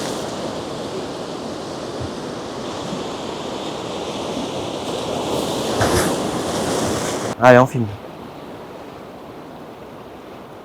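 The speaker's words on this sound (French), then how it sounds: "donc là on filme les vagues" Ocean waves break on a beach in a steady, rushing roar mixed with wind buffeting the microphone; a swell peaks midway, and a voice speaks briefly near the end.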